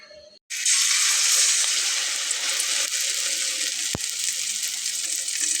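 An aloo puff drops into hot oil after a brief quiet, and a loud, sudden, bubbling sizzle then holds steady, broken once by a sharp click.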